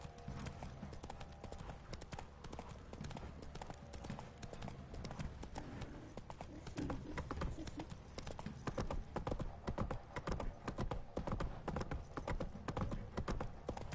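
Roach, Geralt's horse in The Witcher 3, trots steadily with a rhythmic clip-clop of hooves, close and continuous, over a low outdoor ambience.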